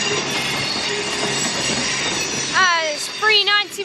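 A Class 390 train, unit 390 125, pulls into Crewe station with a loud steady rumble of wheels on rail. Sharp wheel squeals with rising and falling pitch follow near the end.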